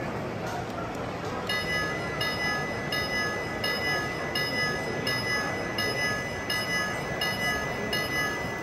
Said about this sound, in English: The train is departing the station.